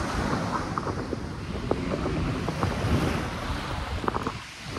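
Steady ocean surf washes in at a shore near Virac, Catanduanes, under heavy wind rumble, with a few brief clicks and knocks in the foreground; no voices.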